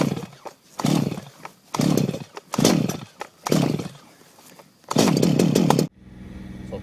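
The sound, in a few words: car engine started, running at fast idle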